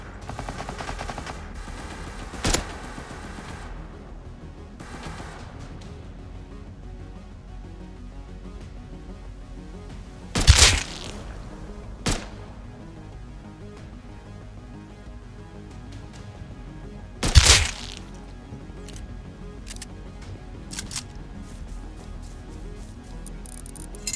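Explosive-ammo rifle fire in Rust, heard as a steady crackle of distant shots with two sharp, loud bursts standing out and a few smaller single cracks scattered between, no voices.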